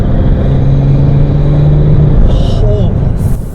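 A tuned 600-whp BMW M240i cruising, its engine a steady low drone with a sustained mid-range tone, turbo whistles and whooshes rising briefly near the end, loud and close from inside the cabin.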